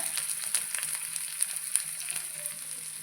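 Chopped shallots frying in hot oil with fenugreek seeds make a soft, continuous sizzle with a few faint crackles and pops, close but fairly quiet, no voices.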